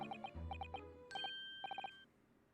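Bells chime in the Great Ace Attorney video game, a quiet run of short bright ringing tones in quick bursts, separated by a brief low tone.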